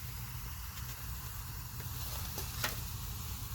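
About 10 grams of baking soda powder is dropped into acid and stirred, and a steady faint fizzing hiss carries on with a couple of brief clinks.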